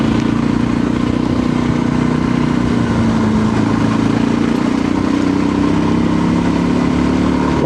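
A Voge 300 Rally motorcycle rides on a dry off-road mountain trail, its engine droning loudly and steadily at close range with a constant mid-pitched hum and slight shifts in revs throughout.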